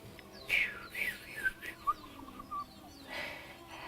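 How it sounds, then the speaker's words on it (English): A cactus wren gives a series of short, rough calls and whistled notes repeated in quick bursts, with a few scattered chirps around them. "Cactus wren, that's the one that goes."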